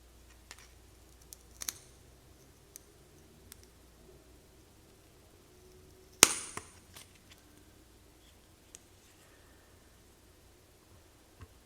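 Scissors snip the wick of a classic Zippo lighter, a single sharp close cut standing out against a quiet background with a few faint small clicks before and after.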